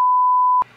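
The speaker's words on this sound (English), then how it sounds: "I'm definitely bleeping that." A single steady censor bleep, loud and continuous, covers speech during NHL 14 gameplay commentary, then cuts off abruptly into faint low background sound.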